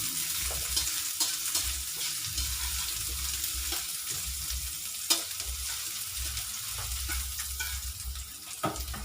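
Onions frying in a pan for sarciadong tilapia, a soft continuous sizzle punctuated by light stirring and scraping knocks, fairly quiet and close with no voices.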